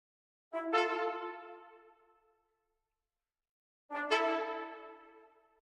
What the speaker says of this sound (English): But if you listen to the brass,